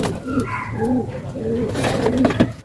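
Pigeons cooing close by during flyer training before transport by truck: soft, repeated throaty coos in a steady rolling rhythm, fairly loud and near, with faint background noise.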